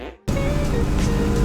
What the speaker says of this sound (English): Sit back, relax, and enjoy a lap around MSR Cresson in an overweight 2011 V6 Ford Mustang.